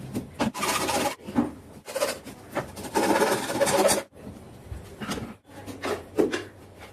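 Plywood piece being cut for the top cushion panel of a DIY armrest: a close, loud rasping saw sound in repeated bursts of a second or two, separated by short pauses, with no talking.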